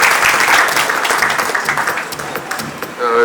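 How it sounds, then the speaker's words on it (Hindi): An audience at the inauguration of an automated driving test track in Lado Sarai breaks into loud applause, a dense wash of clapping that tapers slightly toward the end. "जोरदार तालियों के साथ एक बार स्वागत किया जाए।"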